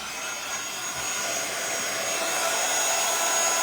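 Heat tool blowing steadily on a stencilled card, a constant close-up whooshing hiss that holds level throughout, with no talking over it.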